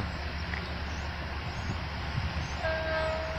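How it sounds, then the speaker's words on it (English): An Amtrak train rumbles past Croton Harmon station with a steady wheel and engine roar, and a horn blast sounds near the end. "That's Amtrak, ain't it?"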